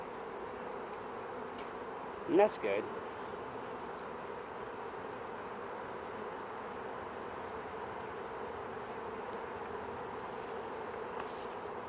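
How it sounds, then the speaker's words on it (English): A wild bee swarm buzzes in a steady, soft drone throughout, with one louder bee passing close by briefly. "they're just buzzing around doing their thing"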